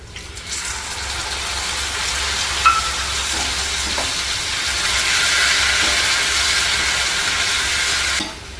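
Onion, curry leaves and homemade tomato sauce fry in a hot pan, making a loud, steady sizzle and hiss that swells slightly, then cuts off abruptly near the end; no voices are heard.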